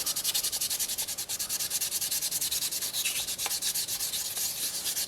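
Sandpaper rubs back and forth over a small soapstone orca carving in quick, even strokes, a close rhythmic rasping scrape that repeats steadily without pause.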